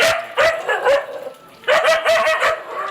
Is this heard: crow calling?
no